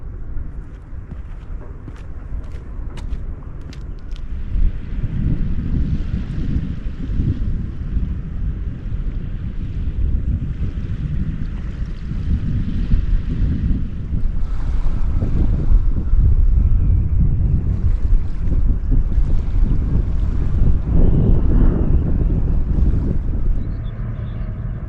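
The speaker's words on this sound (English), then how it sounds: "Oh, this wind has picked up." Strong wind buffets the microphone on a sea shore beside a power station, a loud steady roar with gusting swells and possible surf underneath, no talk.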